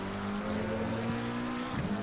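A GT3 race car engine in Assetto Corsa Competizione, heard during a night stint of a three-hour Suzuka race, hums at a steady sustained pitch with a brief shift near the end and no talking.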